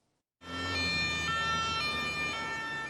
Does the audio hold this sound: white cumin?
no